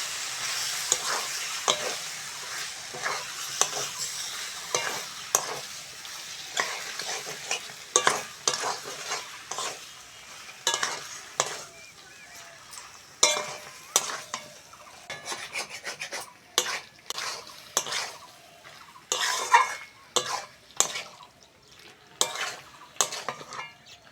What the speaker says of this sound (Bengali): সিম মশলা একসঙ্গে ভালো করে কষে নেব।